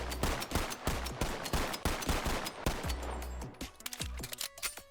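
Rapid gunfire from a TTI Combat Master 2011 pistol in the VR game Bonelab, a dense string of sharp close shots with booming low thumps, easing into sparser pops near the end.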